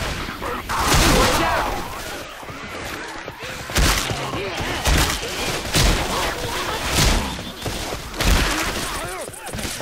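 A pipe bomb goes off in a video game with a rapid run of loud, booming blasts and crashing debris that keeps pounding for several seconds.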